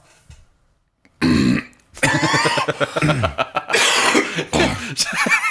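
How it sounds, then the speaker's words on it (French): Someone coughs loudly and close, a long throaty, burp-like spasm that rolls on for several seconds after a brief quiet start, broken by rough gasps and chuckling. "C'est la seule fois que je vais tousser, promis."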